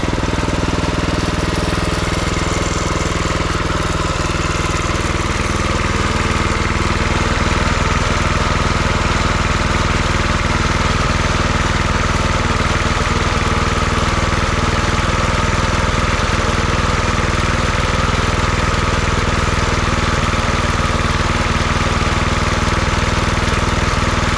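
Predator 224 small engine idling steadily on a vintage Ariens mower after its break-in run, a loud, continuous close-up drone with a rough mechanical chatter that holds unbroken throughout, no voices.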